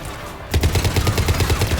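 Rapid automatic gunfire in the video game Mass Effect 3 begins abruptly after a brief lull, a loud close burst of evenly spaced shots continuing to the end.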